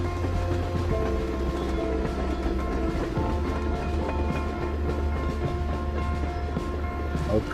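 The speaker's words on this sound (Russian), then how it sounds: "Знакомая железная дорога возле свалки." Railway near a junkyard in Life is Strange: Before the Storm, heard as a steady, continuous rumble with a sustained tonal drone holding at an even level throughout, no voices.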